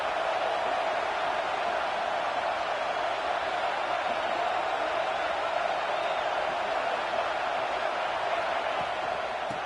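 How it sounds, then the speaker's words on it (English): Stadium crowd at a college football game in a video game, a steady, dense roar that holds at one loud level without letup for the whole stretch. "It's early, but this crowd is fired up. Listen to this noise here."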